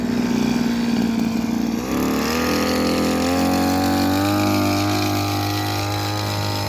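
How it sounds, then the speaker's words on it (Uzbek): A motorized 850 ml pesticide sprayer drones steadily, its engine settling into a higher, even whine after a brief shift in pitch, loud and close throughout. "Barglarni o'ynatib yuboryapti o'sha motorli apparatimiz."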